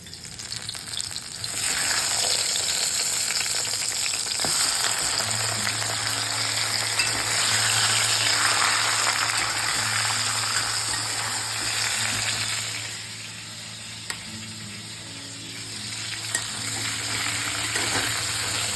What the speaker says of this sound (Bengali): গ্রিন কুমড়ো ভাজা করছি।